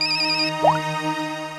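A phone ringtone plays steady electronic tones, with a brief rising chirp partway through, fairly loud and close, with no talking.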